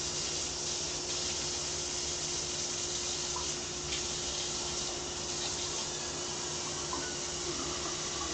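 Water running from a kitchen tap into a pot for pasta, a steady, even gush of filling water lasting the whole stretch without talk.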